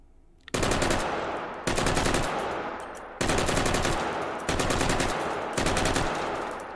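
An L85A2 rifle firing in the game H3VR, five loud, close bursts of rapid automatic shots, each cut off sharply and followed by a short ringing tail before the next burst.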